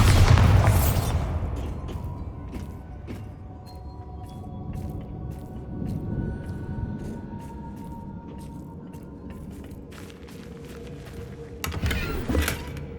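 Bombarda explosion spell going off in the video game Hogwarts Legacy, a loud low boom at the start that rumbles away under ambient game sound, with a second burst near the end.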